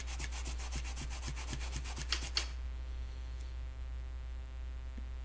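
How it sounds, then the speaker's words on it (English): Fine grit sandpaper rubbing a rough spot on a fishing reel, about a dozen quick rhythmic scratchy strokes for two seconds, then stopping and leaving a steady low hum, close and fairly quiet. "And you can do it with regular sandpaper or something too, a finer grade, finer grit sandpaper"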